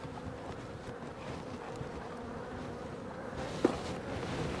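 Bees hum steadily around a hive set up in the springtime with a feeder. The buzzing is a low, continuous drone close to the microphone, joined by a faint breeze and one brief tap near the end.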